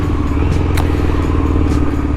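A Triumph Bonneville motorcycle with a non-standard intake of twin K&N cone filters runs with a steady, close, throbbing engine note that holds at an even level throughout.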